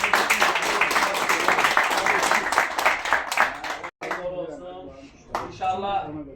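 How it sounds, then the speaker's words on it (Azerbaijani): Crowd applause at an award ceremony for a pigeon race winner, a dense, steady patter of many clapping hands for about four seconds, then it thins and breaks off while a voice speaks over the fading claps. "Ceyhunu ürəkdən alqışlayın."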